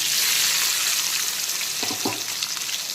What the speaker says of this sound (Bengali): এখন দিয়ে দিচ্ছি পেঁয়াজ কুচি।